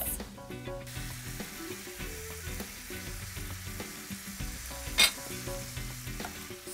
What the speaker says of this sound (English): So now all I have to do is cook this chorizo through.